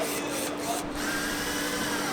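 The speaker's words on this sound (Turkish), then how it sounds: "Benim muazzam matkabım." A power drill runs continuously at an outdoor parkour event stage, a steady high whirring hum held for a couple of seconds, fairly loud with no talk.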